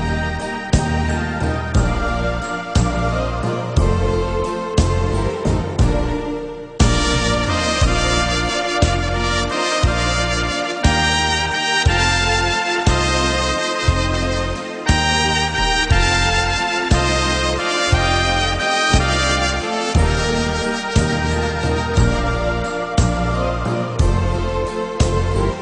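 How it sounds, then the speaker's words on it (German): Yamaha Tyros 3 arranger keyboard playing a Schlagerwalzer, a German schlager waltz style, with a steady oom-pah-pah bass and chord pattern under a full accompaniment, loud and continuous throughout with no talking. "Auch hier in der Entertainer-Kategorie den Schlagerwalzer."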